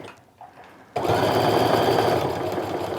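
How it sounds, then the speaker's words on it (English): A sewing machine stitches around the edge of a pleated fabric wristlet with a 1/4 inch seam. After a second of near silence it starts up and runs as a loud, close, steady whir to the end. "we're going to stitch all the way around and we're going to stop here again, reinforcing our stitches"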